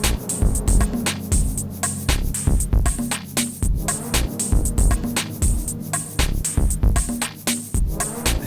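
Music made in the Ableton Note app on iOS with reverb applied, a steady rhythmic pattern of punchy beats with washy tails spreading across each hit, playing alone throughout.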